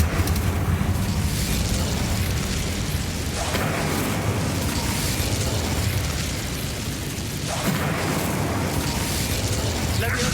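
Incendio fire spell cast repeatedly in Hogwarts Legacy, a dense loud whooshing burst of flame and crackle over game mechanism clatter, sustained across the whole stretch with a couple of renewed surges.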